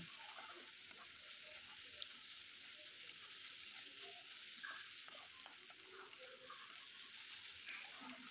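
Sliced onions fry in oil with salt and turmeric added, a steady low sizzle with faint scrapes of stirring throughout, fairly quiet and continuous.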